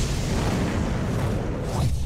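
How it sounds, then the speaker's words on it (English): A gas explosion set off in a house when the lights are switched on, a sustained loud low rumbling blast that roars steadily for about two seconds with no talking. "When you come back into the house and turn the lights on, it sparks an explosion."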